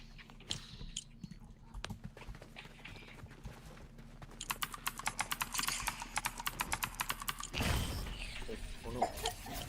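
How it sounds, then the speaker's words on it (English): Rapid computer keyboard clicks from typing, a dense run of sharp taps in the middle building to a louder burst near the end, over a low background hum while building a Brainrot map in UEFN. "I need to hear the keyboard clicking."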